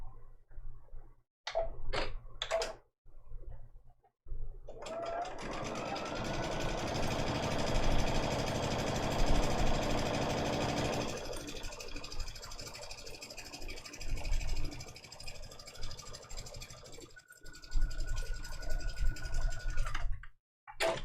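A Baby Lock sewing machine stitches long straight quilt seams, its needle running in a fast steady whir for about twelve seconds after a few short clicks and taps, then slowing to lighter mechanical clatter, close by.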